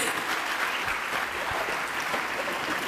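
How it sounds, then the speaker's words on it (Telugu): A church congregation at a pastor's sermon claps in a broad, steady wash of applause. The sound is moderately loud, carries some room echo and holds evenly from start to finish. "మీరు ఇప్పుడు చప్పట్లు కొట్టారు"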